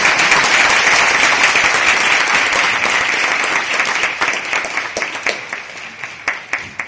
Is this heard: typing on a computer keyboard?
no